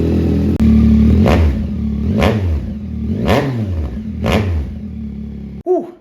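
A Yamaha XSR900 motorcycle engine revs hard several times in sharp, loud bursts through its Kelpie exhaust, dropping back between each throttle blip, with a brief clunk at the end.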